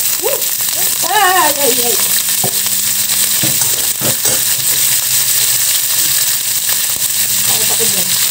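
Garlic and onions fry in olive oil in a pan, giving a steady, dense sizzle that runs throughout, with brief voices and scattered utensil knocks over the top.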